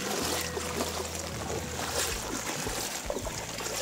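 Swollen Krishna river floodwater pours under pressure across a road near a bridge. It makes a continuous close roar and hiss with low churning rumbles and no pauses.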